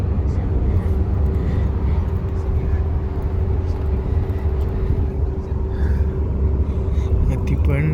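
An airplane landing at Kuala Lumpur among palm trees produces a constant low engine rumble with a faint steady whine running through the cabin, while voices murmur quietly beneath it.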